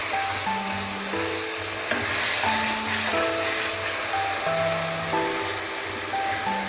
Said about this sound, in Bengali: দই সহ মাছটা দিয়ে দেব। আলতোভাবে নাড়া দিতে হবে